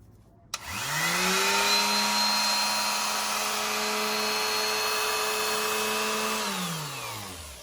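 A power sander runs on a small wooden puzzle piece, a steady loud motor whine that spins up sharply, holds for several seconds, then winds down.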